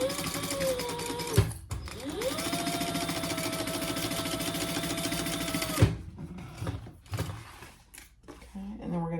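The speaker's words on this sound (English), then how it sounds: "So we're going to sew these together at the seam allowance in the pattern." A sewing machine stitches the pieces of a clutch wallet together along the seam allowance, its motor whirring steadily and loudly in long runs broken by brief stops and clunks, then quieting to scattered mechanical taps.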